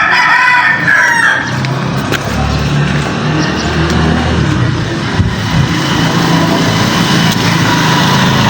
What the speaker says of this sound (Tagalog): Yung mga manok oh.